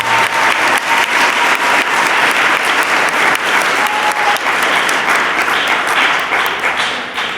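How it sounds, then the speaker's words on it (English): Graduating 8th-grade students at a middle school promotion ceremony clap for themselves, a steady, dense applause that holds evenly loud throughout with no talk over it. "You can clap for yourself."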